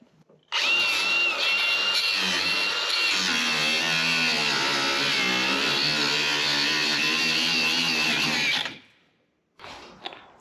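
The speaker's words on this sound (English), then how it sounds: "Cutoff wheels don't like cutting through wood." A cutoff wheel grinding through the wooden bed floor of a 1965 Chevrolet C10 truck, a loud steady high whine lasting about eight seconds before spinning down, then a brief second burst.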